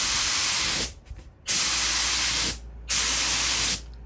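A spray gun laying clear top coat onto furniture gives a loud, steady close hiss in three long passes, with short silent gaps between the trigger pulls.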